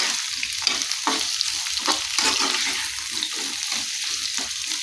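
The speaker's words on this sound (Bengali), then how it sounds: "এখন ঢাকনা দিয়ে এটাকে নরম করে ভেজে নিচ্ছি।" Pumpkin pieces fry in oil in a lidded pan, with a steady close sizzle broken by quick rhythmic stirring pulses and no talk.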